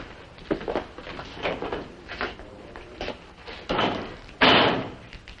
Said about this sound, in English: Oh, you can use the hall door, Mr. Grumman.